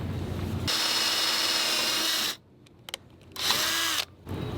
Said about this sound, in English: You want me to drill it? Okay, I can do it.